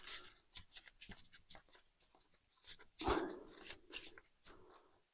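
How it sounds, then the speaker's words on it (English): Plastic sleeves are worked off art cards by hand, a quiet run of irregular crinkles, rustles and small scraping bursts with short pauses between them, close to the mic and without speech. "I'm just trying to get these sleeves off without breaking them."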